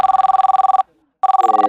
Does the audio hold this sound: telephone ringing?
yes